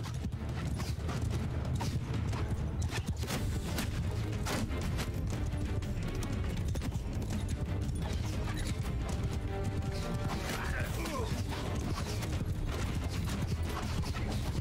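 Horses gallop in a steady, dense clatter of hooves, mixed with a loud, busy din of battle noise throughout, in the video game Mount & Blade II: Bannerlord with a Roman mod.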